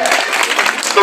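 Short, loud burst of applause from a school quiz audience clapping for a team from Ghagrapar Sankardev Shishu Niketan, a dense wash of claps filling the whole moment.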